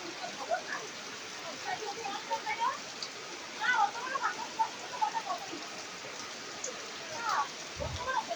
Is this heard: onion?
no